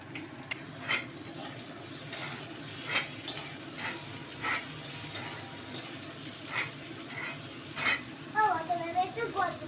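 Onion frying in oil in a pan of pointed gourd and prawn curry, with potatoes pushed aside, makes a loud sustained sizzle broken by regular scraping stirs and clinks, with a brief voice at the end.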